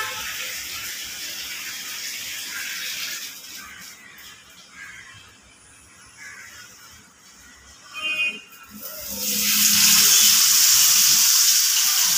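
Masala-coated mackerel going into hot oil, frying one piece at a time: a hiss that is moderate at first, dips in the middle, then swells into a loud, bright sizzle near the end, with faint background noise.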